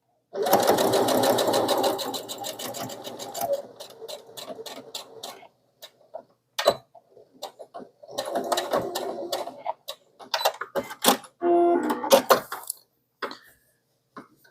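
A sewing machine stitches a pocket onto a bag, beginning with a long steady whirring run and then continuing in shorter start-stop bursts with clicks and mechanical ticking between them, close and clear.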